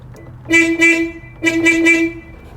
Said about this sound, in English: This old Super Beetle here still has its original horn